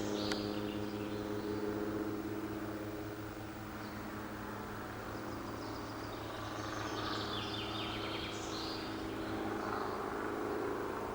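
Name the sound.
helicopters flying overhead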